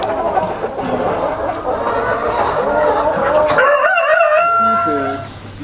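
Goliath breed chickens at an African poultry fattening site cluck and a rooster crows, loud and close, with steady farmyard background noise.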